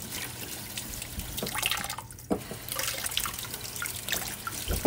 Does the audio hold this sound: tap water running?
yes